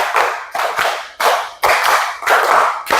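Students in a class clap in unison in a steady counted pattern, a run of crisp group claps spaced roughly half a second apart, near and loud, with no voices.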